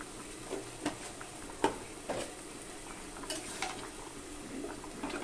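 Turmeric is stirred into a pan of vegetable stems and prawns, with quiet, scattered spoon scrapes and light clinks against the pan over a faint low simmer.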